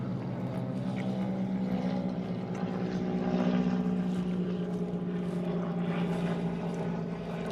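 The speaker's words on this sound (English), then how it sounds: "Little airplane flying over." A small propeller airplane drones steadily overhead outdoors, a continuous low engine hum that swells slightly midway and holds without pause.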